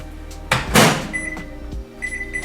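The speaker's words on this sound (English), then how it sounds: "I'm just going to pop it in the microwave for about 30 seconds" A microwave oven heating milk: a door thunks shut, buttons beep, then a low steady hum runs, close and clear with no talk.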